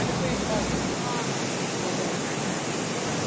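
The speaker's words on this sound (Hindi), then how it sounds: "यहाँ पर भी एक छोटे से गॉर्ज का एक तरह से निर्माण करती हुई नदी।" A mountain river rushing through a small gorge near Harshil on the Gangotri route, a steady broadband roar of churning water that stays close and constant throughout with no voices.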